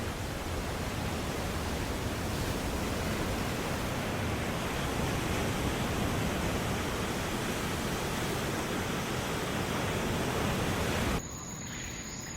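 Ocean surf breaks in a longboarding bay under a southerly swell, a loud, unbroken roaring wash of water that cuts off abruptly near the end.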